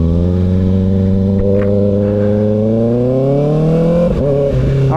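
Kawasaki Ninja ZX6R 636 middleweight motorcycle engine running steadily, its pitch slowly rising as revs climb, then a brief shift or blip near the end; loud, close and without talk.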